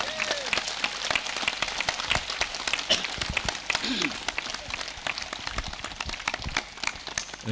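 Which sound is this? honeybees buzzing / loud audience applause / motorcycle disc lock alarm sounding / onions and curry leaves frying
loud audience applause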